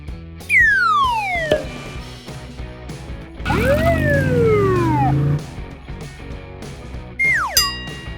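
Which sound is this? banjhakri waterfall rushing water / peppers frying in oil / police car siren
police car siren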